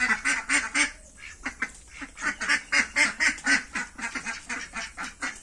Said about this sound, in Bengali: হাঁসগুলোকে বের করে দিলাম, মুরগিগুলো বেরিয়ে গেছে।